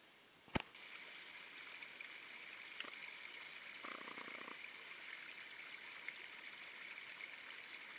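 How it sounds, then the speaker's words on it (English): A flowing creek in November trickles over mossy, lichen-covered rocks, a soft continuous babble close to the listener, with a brief click near the start and a short low rumble partway through. "This is just a great stream, great creek."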